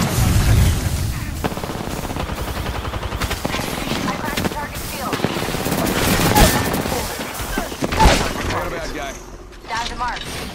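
Rapid bursts of automatic gunfire crackle in the video game Apex Legends, with dense volleys and scattered single shots over about ten seconds, mixed with game sounds and occasional voice callouts.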